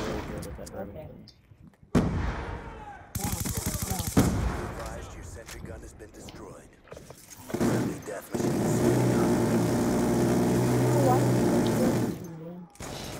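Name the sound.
gunfire in video game Black Ops II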